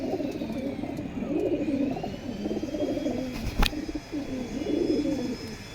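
Caged pigeons coo steadily in low, rolling phrases close by, one bird's call running into the next, with a faint bird chirp and little else.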